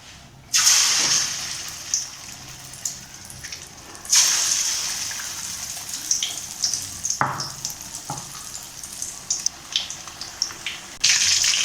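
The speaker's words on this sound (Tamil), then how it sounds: "நம்ம இதில் பொரிச்சு எடுத்துக்கலாம் சிக்கனை." Chicken drumsticks fry in hot oil, a close, bright hiss that flares loudly as pieces go in, then keeps sizzling and crackling with bursts as they are moved or turned.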